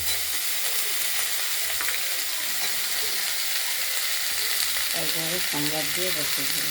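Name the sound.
spices tempering in oil in a kadai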